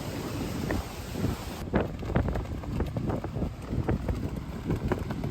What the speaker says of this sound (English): This time, at least it's just windy and not raining.